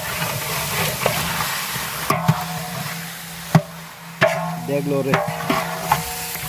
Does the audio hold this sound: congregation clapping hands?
no